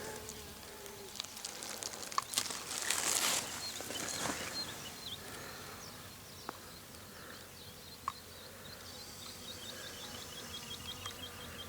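Bees buzzing faintly around pumpkin flowers outdoors, a soft insect hum drifting near and far with occasional brief patter and distant bird sounds.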